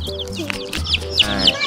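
Several chickens cluck and chatter close by in quick, overlapping bursts, with small chirps mixed in.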